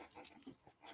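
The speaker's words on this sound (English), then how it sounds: "This is cousin Anna's baby puppy." A baby puppy named Maceo pants in short, soft, breathy bursts mixed with faint whimpers, close up and quiet, with no talk over it.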